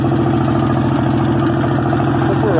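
Mud mower engine with a welded exhaust that leaks, idling loud and close with a rapid, throbbing pulse and a rattly, buzzing edge, running steadily without a break.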